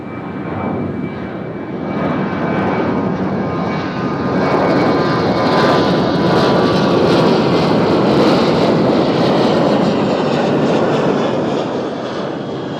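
A Southwest jet airliner takes off for Knoxville, its engine roar building into a loud, broad, steady rumble that holds through the whole stretch with no talk over it.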